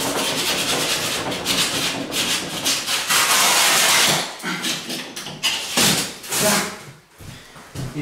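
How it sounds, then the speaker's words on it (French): Back of a saw rubbed along the rough, snapped cut edge of plasterboard to smooth it, a close, loud rasping scrape in repeated strokes with brief pauses. "je vais lisser ma coupe avec le dos de la scie"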